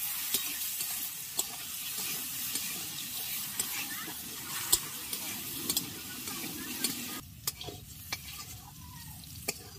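Potato pieces fry quietly in a pan for a homemade chowmein, a soft continuous sizzle broken by sharp clicks and scrapes from stirring, and the sizzle drops lower near the end.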